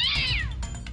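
A cat meows in a Roblox game, one drawn-out, loud, close call with a falling pitch, followed by quieter background noise.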